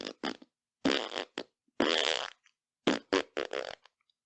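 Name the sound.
mouth imitation of fart noises playing the 2001 theme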